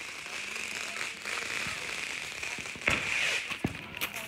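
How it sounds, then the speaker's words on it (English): Fourth of July fireworks crackle and pop at a distance, with a steady hiss and a few sharper bangs toward the end. "Step back and watch the fireworks."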